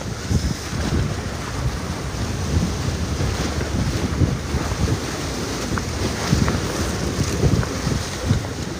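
Ocean waves wash and churn against the Port of Long Beach in rough, wake-stirred water, with steady wind buffeting the microphone in a continuous, loud roar of surf and gusts.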